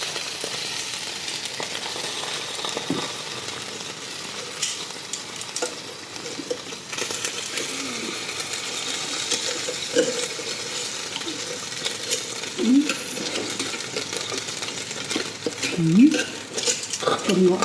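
Pork belly being flipped in a pan as it roasts crisp, with a steady low sizzle and scattered scrapes and clinks of utensils against the pan, heard close by.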